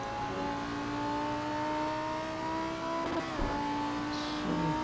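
A Lamborghini Huracán GT3 racing at Silverstone in Assetto Corsa, its engine holding a steady high drone at full throttle, with a brief dip and a quick shift before the pitch settles again, loud and continuous.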